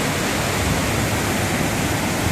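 Rushing water at Dudhsagar waterfall in Goa roars loudly and steadily during monsoon, a constant broad wash of sound with no breaks.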